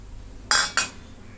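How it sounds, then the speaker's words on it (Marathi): Two quick metallic clinks from a steel mixer jar being handled in a home kitchen as a bowl of coconut goes in for idli chutney, close and clear over a quiet background. "इथं मिक्सरचं भांडं मी घेतलंय त्याच्यात एक वाटी खोबरं घेते"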